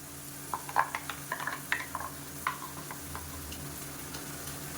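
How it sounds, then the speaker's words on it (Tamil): Coconut paste and chili powder fry gently in oil over a medium flame, a faint soft sizzle dotted with light clicks and taps of a stirring spoon against the pan. "இதை நல்லா வதக்கி விட்டுக்கலாம் எண்ணெயில் மீடியமான ஃப்ளேமில் வதங்கட்டும்"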